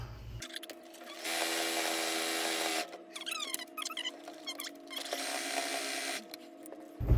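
A sewing machine stitches fabric for a daisy-shaped pillow. It whirs in two sustained runs of about a second and a half each, broken by quieter handling and clicking, with a steady low motor hum underneath.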